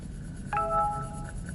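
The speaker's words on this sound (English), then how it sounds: "that's my phone going off right now." A mobile phone chimes suddenly with a short, clear electronic ringtone of a few sustained tones over a quiet room hum, moderately faint and without any talking.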